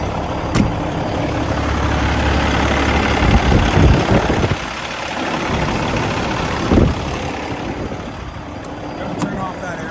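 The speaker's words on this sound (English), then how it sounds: "for whatever reason the fan has decided to come on" A Cummins X15 565 hp diesel idles steadily in a 2019 Peterbilt 389 with its cooling fan engaged, a loud continuous low rumble and broad whoosh, joined by someone speaking nearby.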